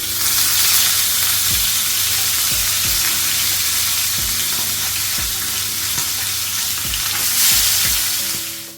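Masala-marinated fish fries in a pan with a loud, steady sizzle, punctuated by about seven sharp thuds or taps from a spatula at fairly regular intervals.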